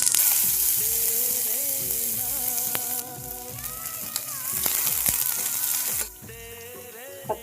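Cumin seeds sizzling in hot oil before green chilies and broccoli go in, a loud close crackling fry with a few clinks and bumps, easing quieter toward the end, and no voices.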